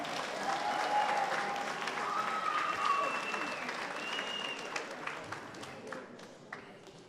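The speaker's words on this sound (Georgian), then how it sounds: "სოფო ბედია, გავაცილოთ აპლოდისმენტებით" An audience applauds steadily at a Georgian league semifinal show, a dense wash of clapping that holds for several seconds and slowly fades, with a voice speaking over it near the start.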